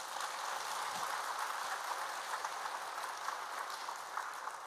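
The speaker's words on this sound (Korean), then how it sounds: "우리 하나님께 우리 감사의 박수 한번 올려주시면 좋겠습니다" A church congregation gives a round of applause during a sermon, a steady, soft wash of clapping heard from a distance with no voices over it.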